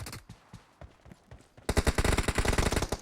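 Gunfire in the mobile battle-royale game PUBG Mobile: a few scattered shots, then a loud, rapid automatic burst of evenly spaced reports lasting over a second, close and punchy.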